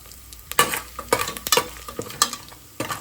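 Cardamom and cinnamon frying in hot oil for chicken biryani give a soft, steady sizzle, broken by a series of close, scraping stirs of a spoon against the pan.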